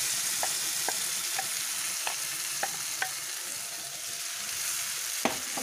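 Ground masala paste sautéing in a pan for peas masala gives a steady broadband sizzle, with a scattering of soft scraping stirs across it and one sharper knock near the end, close and continuous.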